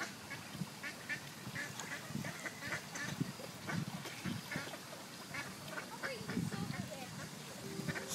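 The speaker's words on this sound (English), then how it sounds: "So many ducks." A large flock of ducks quacks continuously near a lake where they are being fed, overlapping calls rising and falling, with a person talking over them.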